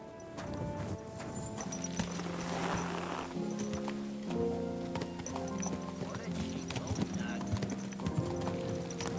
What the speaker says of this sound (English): Let's mount up then.